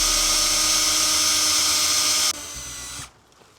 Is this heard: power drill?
yes